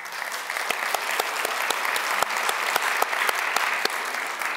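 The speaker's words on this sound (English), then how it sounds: "Let's give them a round of applause" An audience at the Miss Indian University of New Mexico pageant applauds the judges, a steady, fairly dense clapping with distinct individual claps standing out, sustained throughout.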